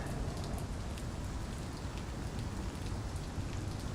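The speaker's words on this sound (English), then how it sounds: "It's raining and I don't have my hat." Steady rain pours down in the video game Vampyr, a dense, even hiss that fills the whole clip without a break and with no voices.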